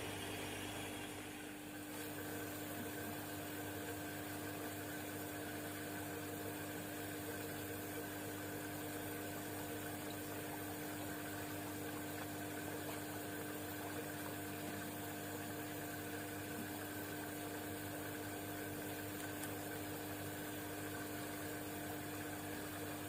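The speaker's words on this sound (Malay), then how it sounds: "Okey, mula-mula kita kena buang air." A pump drains water from a fish tank in a fish-rearing system, giving a steady, unbroken mechanical hum with a low drone that stays even throughout, with no voices.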